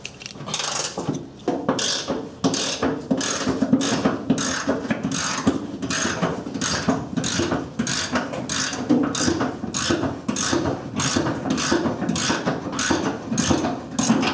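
A ratchet wrench clicks steadily and rapidly as it backs rusty, Loctite-coated bolts out of a Ford Ranger pickup bed, a loud, close, continuous run of sharp ratcheting ticks with no talking.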